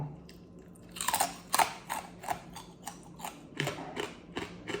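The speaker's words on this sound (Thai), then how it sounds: "กรอบแบบกรุบกรุบกรุบกรุบกรุบกรุบ" Crisp crunching bites into crackly pork belly, a loud first crunch followed by a steady series of chewing crunches, close up with no talking.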